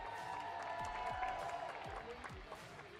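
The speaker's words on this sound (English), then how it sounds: "He gets the biggest cheer of the lot" Race crowd at a Porsche Carrera Cup Middle East round cheers and claps for the Italian winner, a continuous, somewhat distant mix of applause and crowd noise with faint voices and droning tones mixed in.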